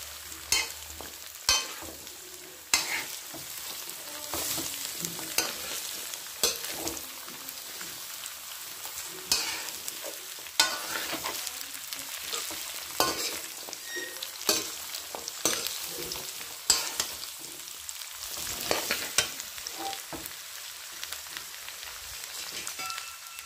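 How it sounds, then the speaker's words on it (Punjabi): Amla, Indian gooseberries, roast in a pan with a steady broadband sizzle and frequent scraping stir strokes, close and fairly loud, with no voices. "ਥੋੜ੍ਹਾ ਜਿਹਾ ਪਹਿਲਾਂ ਆਮਲਿਆਂ ਨੂੰ ਆਪਾਂ ਰੋਸਟ ਕਰ ਲਈਏ, ਇਹਨਾਂ ਨੂੰ 2-4 ਮਿੰਟ ਵੱਧ ਲੱਗਣਗੇ"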